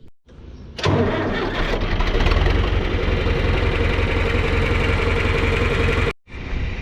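A John Deere 3010 tractor engine cranks over and catches, then runs loud and steady up close with a dense, throbbing rumble for several seconds before cutting off abruptly, followed by a brief quieter tail.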